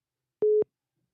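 A single short steady telephone line tone, clean and loud, lasting about a fifth of a second in otherwise silent surroundings.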